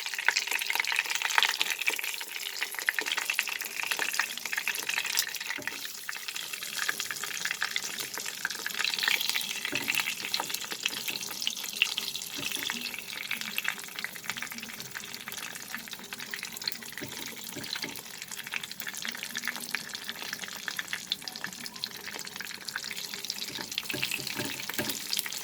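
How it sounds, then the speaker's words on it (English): Brinjal sizzles in hot oil in a pan, a steady dense hiss and crackle with faint popping that stays consistent throughout. "After placing all the brinjal in the oil,"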